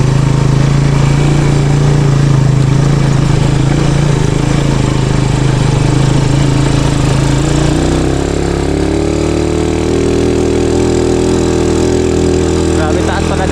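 Motorcycle engine running on a mountain moto-hike, a loud, close, continuous drone whose pitch rises and shifts partway through as the load changes, with voices talking over it.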